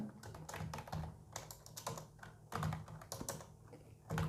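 Fingers type steadily on a computer keyboard while entering data into an Excel spreadsheet, a close, continuous patter of keystrokes with slight pauses and no one speaking.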